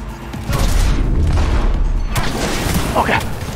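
Loud, booming pistol shots from Cyberpunk come in heavy bursts amid explosive game effects, with a voice shouting over the action.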